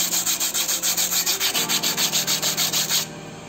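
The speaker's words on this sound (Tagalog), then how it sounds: "So lihain din natin ng konti." An electric scooter brake pad is sanded by hand in quick, even back-and-forth strokes, a steady rhythmic scraping that stops just before the end.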